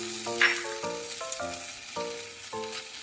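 Garlic, then ginger paste, fries in a pan for chili chicken, a steady hiss with several short rhythmic stirring strokes close by and no talk.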